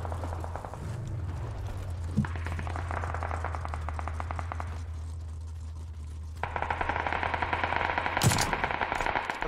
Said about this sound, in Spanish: ¡Dispara Six!